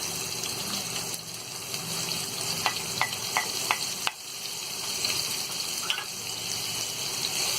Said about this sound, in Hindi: और इस प्याज को गोल्डन ब्राउन होने तक हम तलेंगे।